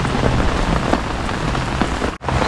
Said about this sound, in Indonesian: Hujan almost sepanjang hari.